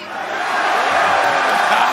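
A boxing crowd roars in answer to a fighter after a bout, a dense, loud wash of cheering and shouting voices that swells and holds steady throughout.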